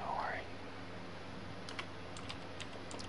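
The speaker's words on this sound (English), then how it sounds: "What's really awkward is they can hear me typing." Fingers type on a computer keyboard during a gaming session, a quiet run of light clicks that grows denser toward the end, faint against a low background hum.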